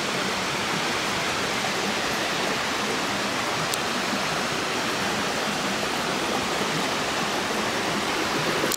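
The Marquiri waterfall in Tarija, Bolivia, roars close by as a constant, loud, broadband rush of falling water with no pauses and no voices.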